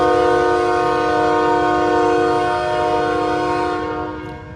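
Paducah and Louisville Railway train at West Yard in Madisonville, Kentucky, with a loud, sustained multi-tone horn chord held steadily over rumbling rail noise that fades slightly at the end.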